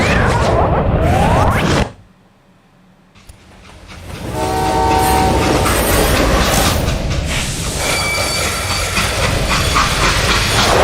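A steam-era freight train rumbles loudly in the Western video game Call of Juarez: Gunslinger, with hissing steam and a sustained horn blast; it briefly drops away to near-silence before the clatter and whistle return at full volume.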